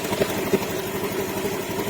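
Honda Beat ESP scooter engine idling with the battery removed, a steady mid-pitched running drone with light rhythmic pulsing, close and alone.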